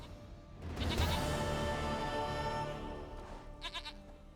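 A goat in The Witcher 3 video game gives a loud, drawn-out bleat, followed by a few shorter bleating calls near the end, with no talk over it.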